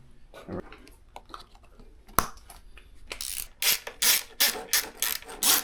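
Bolts are screwed down on a KTM dirt bike subframe, with rhythmic ratchet clicks growing louder and more regular after a few scattered handling knocks and a sharp clank.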